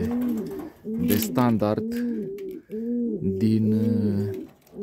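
Horseman pigeons cooing in an aviary, a repeated close coo that rises and falls in a steady rhythm, with someone talking over and between the calls.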